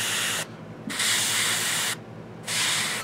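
An airbrush lays yellow skintone paint on a Reaper Hill Giant Lowland Warrior miniature, giving close, steady hissing bursts separated by short silent pauses.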